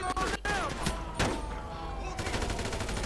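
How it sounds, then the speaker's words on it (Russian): Gunfire in GTA V during a shootout with police, rapid bursts of shots layered with a wailing siren and game noise, loud and continuous, with a voice murmuring underneath. "Смотрите, реально стреляет и по покопам."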